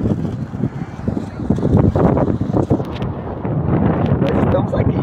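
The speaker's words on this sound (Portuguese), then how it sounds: "o vento está um pouco forte" Strong wind buffets the microphone on a beach at the natural pools of Tamandaré as the tide comes in, a steady loud rumbling roar with gusts that swell and fall throughout.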